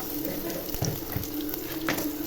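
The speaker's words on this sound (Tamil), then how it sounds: "எண்ணெய் ஊற்றிட்டு பட்டை கிராம்பு பூண்டு வெங்காயம் சோம்பு கருவேப்பு" Spices, garlic, onion and curry leaves fry in hot oil in a pan, a steady close sizzle with a few soft stirring scrapes and clicks along the way.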